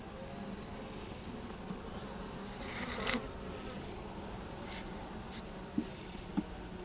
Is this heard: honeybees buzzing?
yes